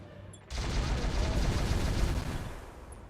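Mech weapons in the Roguetech video game fire air burst shots in a dense, loud barrage of rapid overlapping blasts that lasts about two seconds before fading, close and heavy with no talking.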